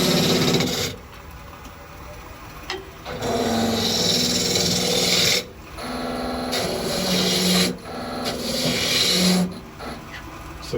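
A lathe tool cuts spinning wood with its bevel rubbing, producing a close, loud, rasping scrape that comes in several long passes broken by short pauses.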